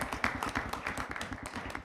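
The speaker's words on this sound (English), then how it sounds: "I would like to give a big round of applause for Don's efforts" A school board meeting audience applauds a retiring board member after twelve years of service. The clapping is brief, dense and fairly soft, with rapid overlapping hand claps.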